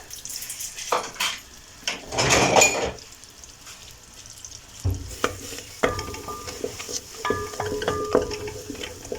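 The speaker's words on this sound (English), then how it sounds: "So I'll melt the butter." Butter melting in a pan for a white pasta sauce, with a soft sizzle, scraping and stirring of a utensil, and light clinks of cookware, close and moderately loud.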